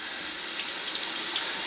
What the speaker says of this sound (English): we're going to stick it underneath the faucet